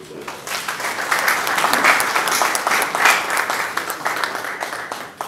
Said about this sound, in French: Je voudrais demander à l'assistante de bien vouloir applaudir le doyen Somers.